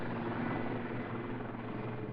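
A Lynx shipborne helicopter gives a steady, loud droning roar of engine and rotor that holds at an even level throughout, with no voices over it.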